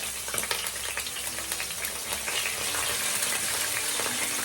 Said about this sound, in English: We have some oil in there, so we're just gonna get in there, let it go and fry up a bit.